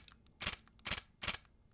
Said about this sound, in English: You can actually feel the shutter in your hand when you're shooting